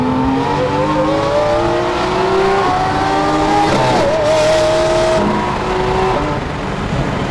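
A Lamborghini race car accelerates hard on a Las Vegas track, its loud, close engine climbing steadily through the revs, with a brief dip mid-pull before it winds up again and holds a high, sustained howl.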